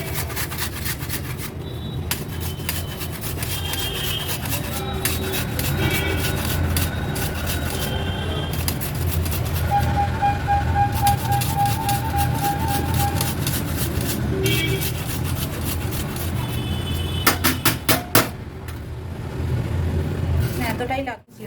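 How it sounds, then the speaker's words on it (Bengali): Fresh ginger is grated by hand for an Ayurvedic kadha, making a steady scraping rasp of quick repeated strokes that runs throughout at close range. "আদাটাও সেমভাবে আমি ঘষে নেবো।"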